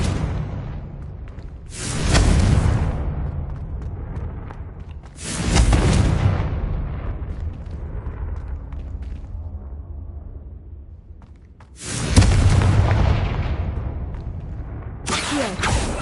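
Confringo blasting spells exploding in Hogwarts Legacy, four loud booming bursts spaced a few seconds apart, each decaying into a rumbling tail, with no talk over them.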